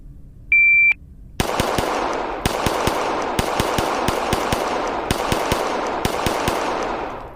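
Handgun shots fired from the holster at targets using a red dot sight, a sharp electronic start beep followed by loud close strings of rapid shots in bursts of two to four, ringing reverb between them.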